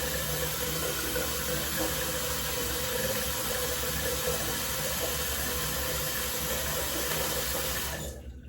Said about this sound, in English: let's rinse this off before I go in for the second half of the second pass